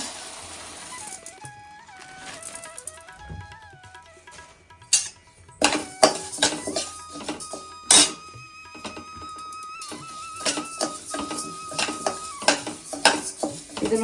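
Urad dal being dry-fried in a pan for homemade sambar powder, with a spoon scraping and clinking against the metal and grains rattling, in irregular bursts that grow louder toward the middle, under faint background music.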